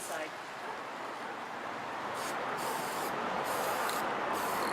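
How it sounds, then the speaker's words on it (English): Glossy black spray paint hissing from an aerosol can onto the inside of a pedestal plate, a steady close hiss that runs throughout, with short bursts layered on top. "I'm going to spray just really lightly around the inside."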